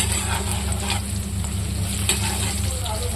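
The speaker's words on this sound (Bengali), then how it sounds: "এইরকম করে আমি লাল লাল করে ভেজে নিয়েছি।" Food sizzling steadily in a hot frying pan as it is stirred, a dense, even crackle with close scraping strokes and no talk.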